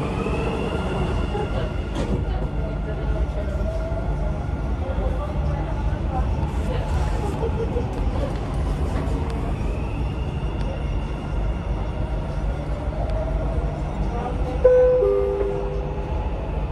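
A Dubai Metro train pulls away from a station after its doors close, giving a steady, loud rolling rumble and hum with faint wheel squeal, heard from inside the carriage and mixed with voices.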